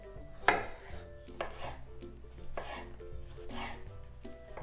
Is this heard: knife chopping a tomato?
yes